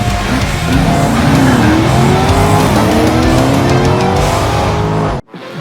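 Race cars scream through the final corners of a championship race, loud engines revving and shifting in rising whines with tire noise, continuous and close before cutting off abruptly at the end.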